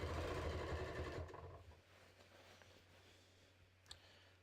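A sewing machine stitching a bodice seam, its fast whirring run fairly close at first, then stopping and leaving a low hum with a faint click near the end.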